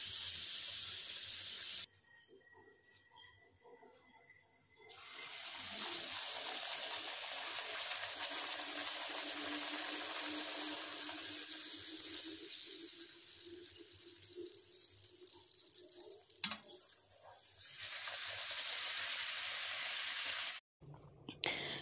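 Dishes are washed under a running kitchen tap after dinner, a steady rush of water that drops out briefly early on and then runs on, loud and close.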